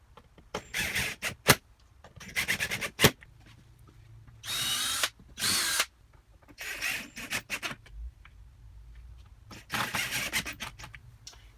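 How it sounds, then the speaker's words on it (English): A power driver sinking screws into number 2 white pine for a desk build, with repeated whirring bursts of one to two seconds each, separated by short pauses and sharp clicks, close and with no talk. "you don't have to use as much force with the driver to put screws into number 2 white pine"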